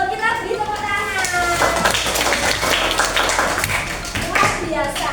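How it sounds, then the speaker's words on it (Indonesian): A class of children clapping together during a lesson, a dense patter of many small hands that swells and then tapers off, with a voice and children's voices heard over and around the applause. "Kita beri tepuk tangan."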